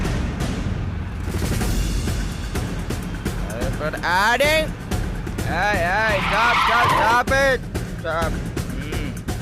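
A car races and skids, its tires squealing in repeated wavering screeches over engine noise in a Tamil TV drama scene, while voices talk over the commotion.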